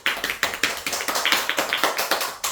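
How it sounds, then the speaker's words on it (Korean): A small group claps at the close of a book club meeting on dividend investing, sharp distinct hand claps in a quick, slightly uneven rhythm that carry on steadily for a couple of seconds, with no talking. "박수"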